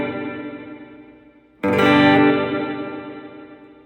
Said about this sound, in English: that to me reminds you a little bit of a church type reverb. Or maybe even a plate reverb